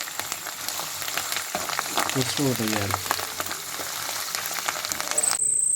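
Chana dal and dried red chillies for tempering sizzle in hot oil, and turmeric is added: a steady crackling fry with stirring scrapes, close and continuous, while someone speaks over it.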